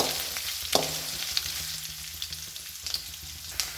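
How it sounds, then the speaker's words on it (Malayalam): Chopped coconut fries in ghee for a rice milk payasam, a close crackling sizzle with scraping stirs and small pops throughout. "തേങ്ങ ഒരു ബ്രൗൺ നിറാകുന്നത് വരെ ഇളക്കി കൊടുക്കണം."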